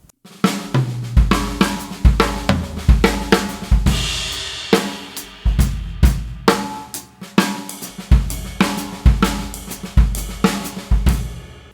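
A six-note drum fill on a full kit, played in right, left, kick groupings, gives fast snare and tom strokes, deep bass drum hits and crashing cymbals, driving and loud at close range.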